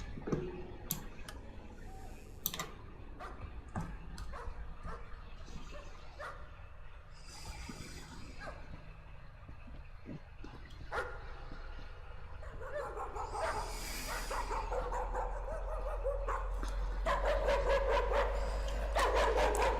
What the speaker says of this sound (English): That's a loud dog.